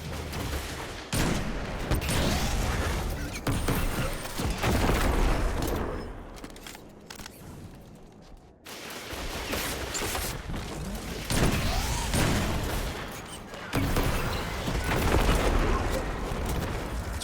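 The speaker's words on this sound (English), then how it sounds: "Once it's about down, I throw a grenade. Rocket. Back behind cover. Rocket." Grenade and rocket blasts in a Destiny 2 Lost Sector battle, repeated booms and bursts of gunfire over several seconds, dropping briefly to a quieter gap before the barrage resumes loud and close.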